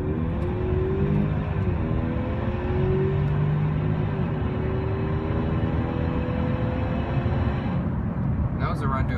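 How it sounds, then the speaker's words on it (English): A 2013 Ford Fusion Titanium with a glass pack exhaust pulling hard up to about 65, its engine note climbing through the gears in a steady droning rush that cuts off near the end, with talk over it. "you can hear, you just get tons of whoosh after having that glass pack put in"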